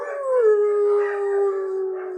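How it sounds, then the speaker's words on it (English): A single dog howls in a long, sustained, slightly wavering tone lasting about two seconds, close and clear with no talk over it. "Why do dogs howl at sirens?"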